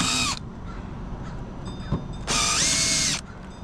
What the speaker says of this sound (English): We'll just come through with a much bigger bit and just deburr the edges.